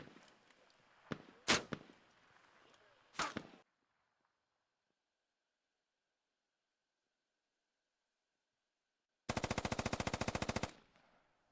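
SAW machine gun fire from a gunner on a catwalk in the tactical shooter Squad: a few sharp scattered shots, a long stretch of near silence, then one loud, fast, continuous automatic burst lasting about a second and a half.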